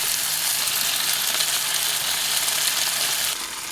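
A burger patty, pressed flat with a spatula, fries on a hot pan while stealth camping in a seaside town, a loud, dense, continuous sizzle that drops off slightly just before the end.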